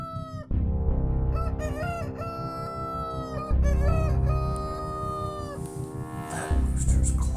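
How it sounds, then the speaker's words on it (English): A rooster crows at night, three loud, drawn-out cock-a-doodle-doo calls close by, each rising and then trailing off, with a steady low rumble underneath. "except for a insane rooster that was crowing at 3 a.m."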